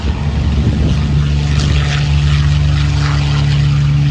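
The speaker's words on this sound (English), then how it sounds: "Those two Warhawks now followed by the P-51 Mustang." A P-51 Mustang warplane makes a pass at the Planes of Fame Central Coast airshow, its piston engine giving a loud, steady droning roar with a low tonal hum throughout.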